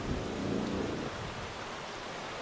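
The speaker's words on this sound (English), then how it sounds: "I'm here live in the thunderstorm." Steady rain falls during a thunderstorm as a dense, constant hiss, with a low rumble swelling in the first second before it settles back into the even wash of rain.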